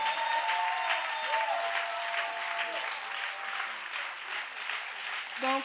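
A church congregation applauding during a worship service, steady dense clapping held for several seconds at moderate distance, with a voice speaking over it.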